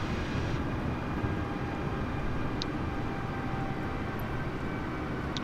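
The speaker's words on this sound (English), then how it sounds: "Just taxiing out onto the runway now" An Airbus A320neo taxiing in Microsoft Flight Simulator with light rain falling, a steady engine hum and whine with even broadband noise throughout, alone and unchanging.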